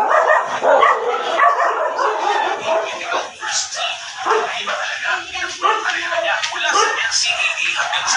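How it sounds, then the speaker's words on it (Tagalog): A dog barks and yips repeatedly inside a busy home, mixed in with overlapping voices and household clatter throughout. "Aso pa."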